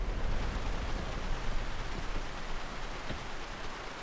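Steady hiss of rain falling in Grand Theft Auto: San Andreas, a constant even wash of noise with no voices.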